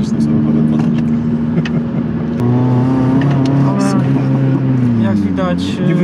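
A Honda Civic Type-R on winter tyres pulls hard in third gear, its engine note droning loud and steady and climbing in pitch from inside the car, with someone talking over it.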